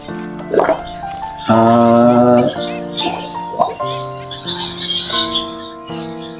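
Zebra finches chirp and call in quick, nasal bursts, loud and close, several calls overlapping in a busy stream.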